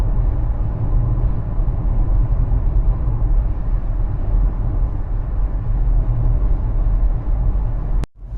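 A car drives slowly through stop-and-go traffic on a valley road with snowcapped mountains in view, giving a steady, loud low engine and road rumble that continues evenly, then a sharp click and brief dip near the end.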